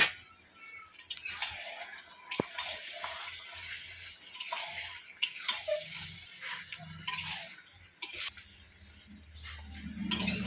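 Meat is stirred in a cooking pot, with scattered scrapes, clinks and wet sloshing of released juices that come in irregular bursts against quiet gaps; no talking.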